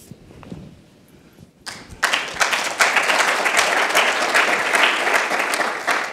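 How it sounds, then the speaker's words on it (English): Audience applause greeting a Rice University professor introduced to talk about DSP chips: a few scattered claps first, then a sudden burst into loud, sustained clapping from the crowd that carries on to the end. "You should at least wait until I say something before you applaud"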